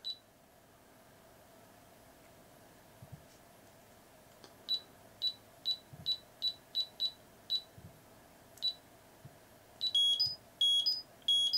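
Digimon Pendulum Color virtual pet beeping through its small speaker: after a quiet start, a regular run of short electronic beeps, then quicker bursts of chirping tones near the end, with faint button clicks.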